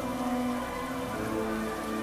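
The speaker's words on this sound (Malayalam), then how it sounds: "മഴ പെയ്തിറങ്ങി." Steady rain pours down in the One Piece anime during the Arabasta arc, a dense even hiss with a low rumbling undertone that never pauses. No one speaks over it.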